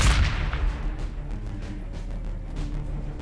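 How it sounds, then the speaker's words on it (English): Frag bombardment in the strategy game Warhammer 40K: Battlesector, a heavy opening boom followed by rolling, repeated blasts and low rumble, loud and close, with no voices. "Frag bombardment commencing."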